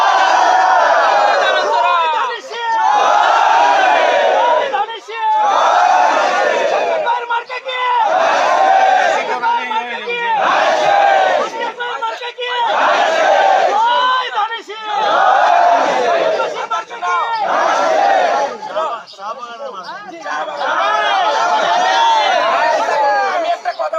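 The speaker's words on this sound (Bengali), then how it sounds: "যা ইচ্ছা স্লোগান দাও, কোনো অসুবিধা নাই।" A crowd at a political rally in Habiganj shouts slogans in loud, rhythmic chanted bursts, repeating call after call with short gaps between waves of massed voices.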